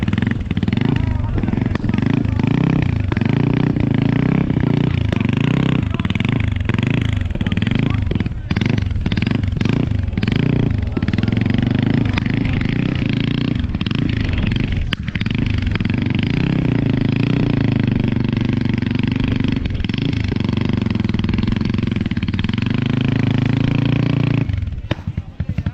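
A mini bike engine runs and revs at a motorcycle race, a loud, continuous buzzing drone that rises and falls in pitch throughout, with people talking over it.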